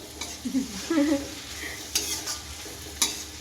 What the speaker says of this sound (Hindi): अच्छे से मिक्स करना, कोई रह ना जाए।